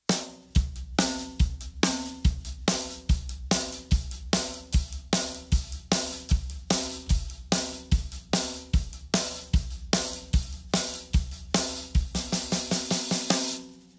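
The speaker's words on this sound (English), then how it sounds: "let's play all of this together with the accents on the hi-hat on 2 and 4" Rock drum kit playing a steady rock groove with accented hi-hat on beats 2 and 4 over kick and snare, loud and close, with a busier fill near the end and no talking.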